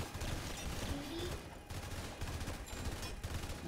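A minigun tower in Roblox Tower Defense Simulator fires a continuous rapid stream of shots, quiet and steady with brief gaps, over the game's background sound.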